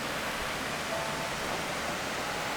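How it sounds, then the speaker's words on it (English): A forest stream in Seward, Alaska flowing toward a bridge, a steady, broad rushing of water with no breaks, moderately close and even throughout. "Nice relaxing stream"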